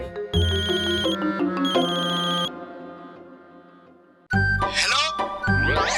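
A phone ringtone plays a loud electronic melody in two phrases, fades out, then resumes with bright sweeping tones.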